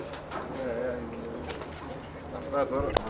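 Pigeons coo inside a loft in Volos, Greece: soft, repeated low coos that rise a few times over a quiet ambient background, with a brief sharp click near the end.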